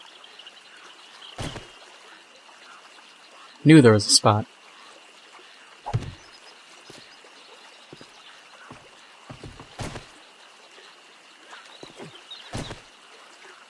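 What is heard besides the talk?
flowing water in 7 Days to Die video game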